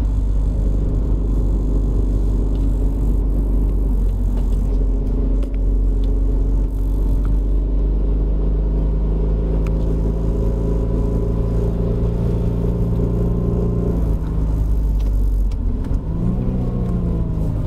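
A 1995 Mercedes-Benz W202 fan car drives a wet hill climb, its engine a loud, steady droning rumble with layered whirring tones that hold throughout, then dip and waver near the end as the car slows.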